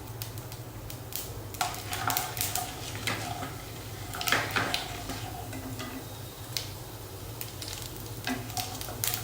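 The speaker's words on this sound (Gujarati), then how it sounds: "એક ચમચી અડદની દાળ ઉમેરી લઈશું" Urad dal tempering in hot oil for spiced khichdi makes a soft, continuous sizzle punctuated by frequent sharp pops and crackles, with a low hum beneath and no talk.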